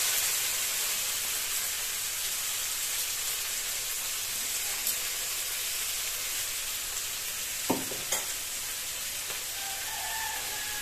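Onions sizzle steadily in hot oil in a pan for a cauliflower and prawn biryani, a continuous close frying hiss with a few faint clinks of stirring.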